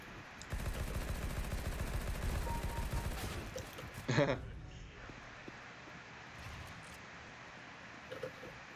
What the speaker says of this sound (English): Are you getting used to the shooting?